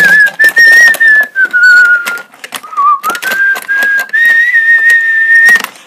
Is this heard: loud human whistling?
yes